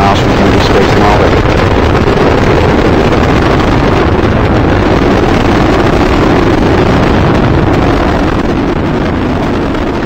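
The Space Shuttle Discovery's rocket engines roar during launch, a continuous, overwhelming broadband rumble that saturates the recording and holds steady throughout.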